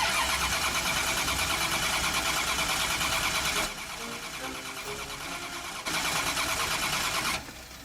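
A Ford Mustang engine cranking on its starter, a loud, fast, rhythmic whirring churn that drops to a weaker grind midway, surges again, then falls off near the end.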